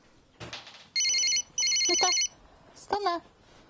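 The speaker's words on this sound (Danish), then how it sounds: "When a planned event is due, Memo Planner sends Yvonne a signal so that she can clearly see what's to happen" A Memo Planner reminder sounds its alert signal as two loud electronic ringing bursts, each about half a second long, framed by brief softer tones before and after.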